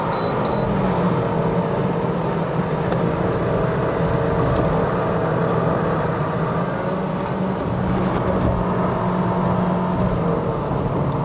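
Honda City GN2 1.5E with a remapped engine, held at 6500 rpm on a mountain climb, a sustained high-revving whine and road roar heard from inside the car at constant pitch.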